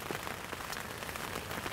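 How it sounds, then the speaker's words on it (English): Spring rain patters steadily on surfaces outdoors in Ontario, a dense, close hiss of drops with scattered sharper hits and no talk. "I'm getting rained out."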